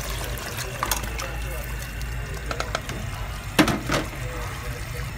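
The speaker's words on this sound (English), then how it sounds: "Your fish, add a bit of water," Water is poured into a pot of fish for a Malaysian lemak ikan dish, a low gurgling trickle with scattered clinks and splashes, heard close under quiet background hum.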